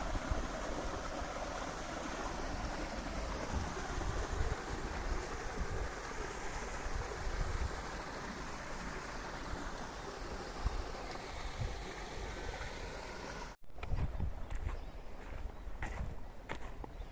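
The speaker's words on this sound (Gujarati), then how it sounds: "અત્યારે પાણી ચાલુ થઈ ગયું." Irrigation water gushes from a motor-fed pipe into a peanut field, a continuous rushing, splashing flow close by that runs steadily before cutting abruptly to a quieter trickle near the end.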